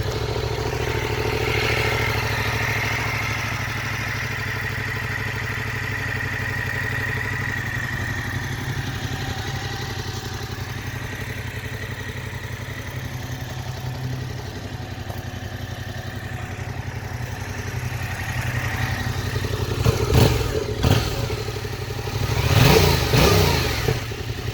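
A Yamaha FZ-07 motorcycle with its stock exhaust runs at a quiet, steady idle, then gives a couple of short, sharper revs near the end, with no voices.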